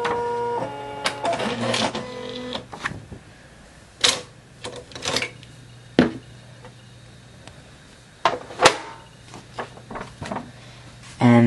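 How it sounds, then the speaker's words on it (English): A printer running off an EEPROM data page on dirty paper, with mechanical whirring, a rapid buzzing run at the start, then intermittent clunks and carriage passes. It is heard alone, with no talking. "I'm going to print off an EEPROM data page."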